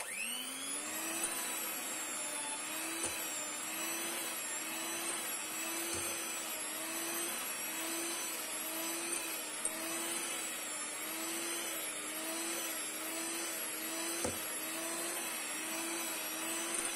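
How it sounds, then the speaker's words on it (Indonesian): An electric hand mixer runs steadily while mixing bread dough for steamed buns, giving a high, constant motor whine with a slight wavering pitch and occasional knocks against the bowl, heard up close without talk. "Ini kurang lebih 3 menit saya mix."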